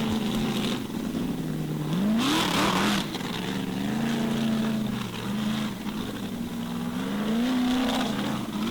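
A loud Formula Offroad race car engine drones and revs unevenly, its pitch sagging and surging as it struggles, with a burst of gravelly noise early on.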